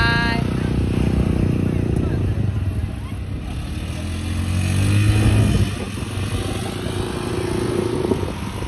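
A motorbike engine drones and swells past amid outdoor background noise, rising in loudness midway, while people talk nearby.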